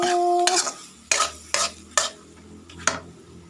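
Squid tentacles with green chili stir-fried in a pan, loud sizzling broken by five or six sharp spatula scrapes and clatters at an uneven pace, close up with no talk.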